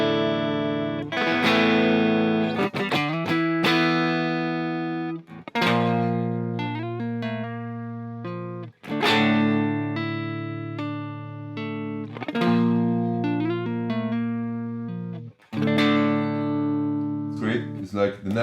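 A Mexican Standard Fender Telecaster electric guitar plays clean, bluesy licks through the neck pickup with the volume slightly rolled off, a loud run of plucked notes and chords with short pauses between phrases.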